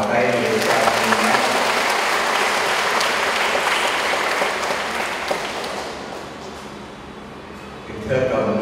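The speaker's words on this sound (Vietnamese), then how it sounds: "Chúng ta nổ một tràng pháo tay để chào mừng nhé." Guests at a Catholic wedding Mass applaud to welcome the couple, a broad wash of clapping filling the room that slowly tapers off before a voice resumes at the very end.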